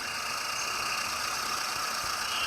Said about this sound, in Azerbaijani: Ama motor titreyir.